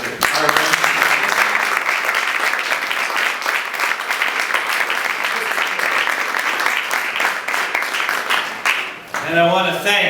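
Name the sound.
applause at press conference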